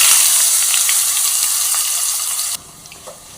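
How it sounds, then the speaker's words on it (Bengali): Chopped onions hit hot oil tempered with cumin, bay leaf and dried chilli for a fish curry, producing a loud, dense hiss that drops suddenly to a softer sizzle after a couple of seconds. "দিয়ে দেবো কুচিয়ে রাখা পেঁয়াজ।"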